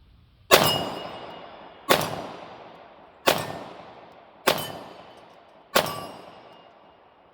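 Five gunshots from a pistol fitted with a Gowutar micro red dot sight, each a sharp loud crack with a ringing tail, fired one at a time at an even pace of roughly one per second.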